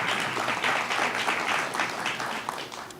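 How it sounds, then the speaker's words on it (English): Applause at a cityhood town hall in a library, a dense, continuous burst of clapping from a roomful of people, fairly loud and unbroken for the whole stretch. "give her a round of applause"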